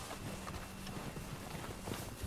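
Horse hooves clip-clop steadily over ground in the Red Dead Redemption 2 video game, a continuous rhythmic trot heard at moderate level amid game ambience, with no talk.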